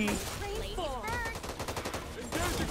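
Gunfire in the Back 4 Blood video game, repeated rapid shots in a steady rhythm, moderately loud, mixed with game sounds and talking voices.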